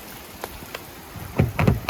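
Rain falling around a Toyota Tundra pickup truck, a soft steady patter at first that builds into louder, closer bursts of drops toward the end, with no voices.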